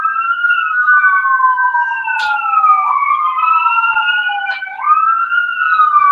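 Ambulance sirens wailing outside, several overlapping rising and falling tones sounding together, loud and continuous with no talking over them.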